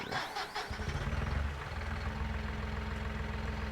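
Tractor engine in Farming Simulator 19 cranking briefly, then catching and settling into a steady, low rumbling idle that continues alone at moderate volume.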